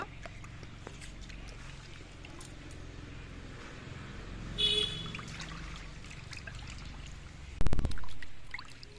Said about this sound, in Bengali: এবার মাছটা কেটে নেওয়ার পর আর একবার আমি মাছটা ধুয়ে নেব